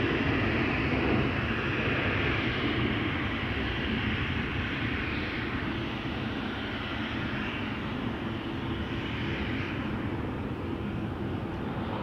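Airbus A330 lining up for takeoff on a Schiphol runway, giving a steady, loud broadband jet engine roar that holds evenly throughout with no talk over it.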